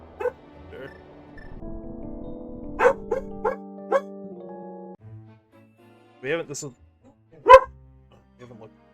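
A dog gives a few short, sharp barks indoors, spaced out and mid-distance, between stretches of casual talk and some background rustling.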